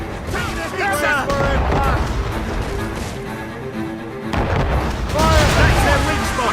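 Ship cannon fire in Assassin's Creed Rogue booms continuously through a naval battle, dense rolling blasts and rumble layered under shouted voices, with a heavier surge of firing toward the end.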